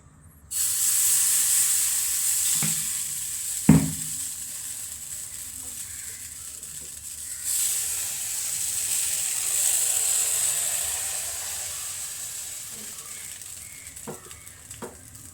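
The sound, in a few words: appam batter sizzling as it cooks in the pan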